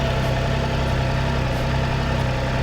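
A 2021 Triumph Trident 660 motorcycle engine idles steadily nearby, a loud, even low rumble with constant hum and no speech over it.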